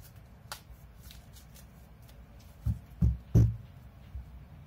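A deck of tarot cards is shuffled by hand, soft riffling followed by a few distinct thumps and slaps close up in a quiet room.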